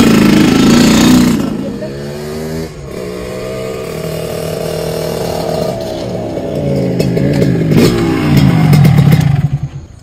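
A motorcycle engine idles and revs loudly up close, its pitch rising and falling with clattery mechanical noise.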